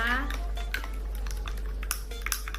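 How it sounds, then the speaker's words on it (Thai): A spoon clinks against a glass while collagen drink powder is stirred into water, several sharp taps and scrapes close by over a steady low hum. "แล้วก็คนให้เข้ากันนะคะ"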